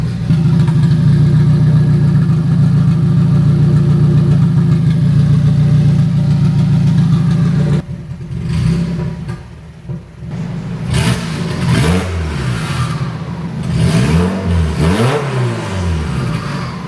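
Turbocharged Honda K24 engine swapped into an MR2, idling with a steady loud drone before rising and falling through several quick revs, close up with no talk.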